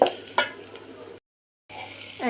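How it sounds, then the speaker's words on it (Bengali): Green chilies frying in oil with onions give a steady close sizzle and hiss, broken by a couple of stirring scrapes in the pan and a brief silent gap. "কাঁচামরিচ তেলের ভিতর দিয়ে ভেজে নিচ্ছি লাল লাল করে"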